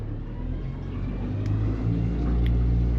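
The outboard engine on a Raider 220 Profisherman aluminum boat throttles up in a steady, loud, low rumble that grows slightly louder and deeper toward the end, with no speech.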